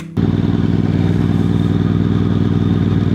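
A Moto Morini X-CAPE 1200 motorcycle's short-stroke 1200 cc V-twin engine runs steadily at close range while riding, a deep throbbing rumble with a dense low pulse that holds even throughout, no voices.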